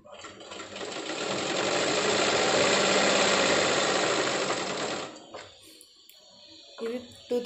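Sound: sewing machine stitching a dress seam

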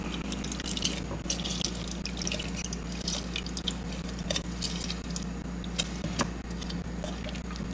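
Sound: lime juice dripping while squeezing a lime

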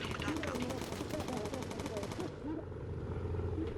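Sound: bomber machine gun firing in video game Bomber Crew

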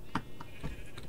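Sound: sheep bleating in Minecraft, video game

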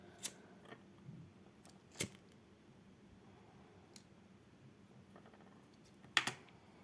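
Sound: scissors cutting blue thread for shuttle tatting lace

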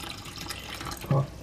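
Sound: pouring a little water into canned tomatoes

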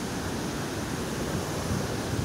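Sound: waterfall flowing through rock

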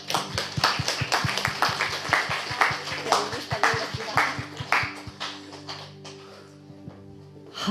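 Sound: applause for Jesus in a church service

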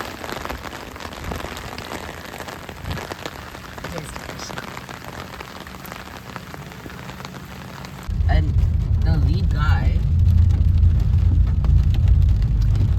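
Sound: heavy rain

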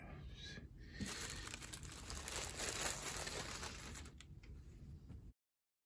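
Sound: plastic packaging crinkling while opening a Supreme tee box

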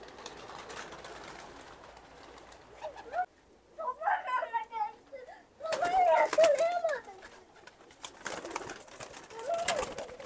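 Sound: Serbian bango pigeons

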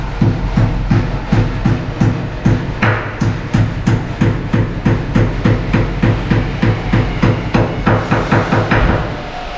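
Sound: cordless brushless impact drill driving screws into hinge

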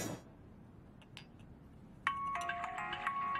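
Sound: mobile phone ringing

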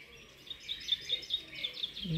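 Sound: songbirds singing in an aviary

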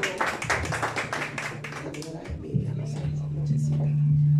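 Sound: applause at a birthday celebration

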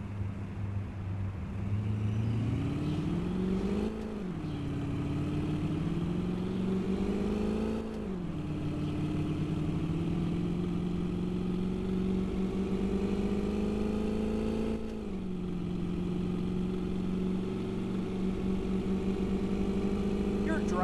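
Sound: car engine driving in taxi video game

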